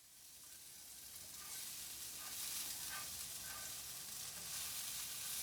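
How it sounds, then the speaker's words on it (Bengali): Shrimp sizzling in a pan while being turned and stirred, a steady, dense frying hiss that swells slightly and stays loud and close throughout, with no voices. "উল্টে নেড়ে চেড়ে সুন্দর করে ভেজে নেব"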